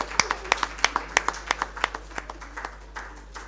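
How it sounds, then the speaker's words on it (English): A small audience at a climate and ecology talk applauds a senior biology professor being introduced, a sparse run of distinct hand claps that thins and fades over a few seconds, with a low steady hum beneath. "Please give a huge round of applause"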